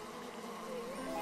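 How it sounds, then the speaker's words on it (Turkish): Bees swarm near a forest water source, giving a steady, fairly faint buzzing drone that holds without a break throughout. "Arılar. Arılar. Arılarım. Ormandalar."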